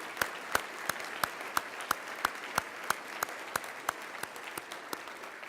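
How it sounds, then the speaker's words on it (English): Audience applause at a city's State of the City address, a steady patter of individual claps in an even rhythm with crisp, distinct hits, moderately loud and sustained with no talk over it. "Let's give them a big round of applause, please."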